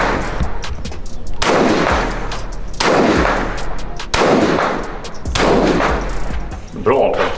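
Rifle shots fired at a shooting session, several loud sharp reports spaced a second or so apart, each with a ringing tail, with people talking between them.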